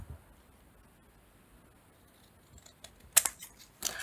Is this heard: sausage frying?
no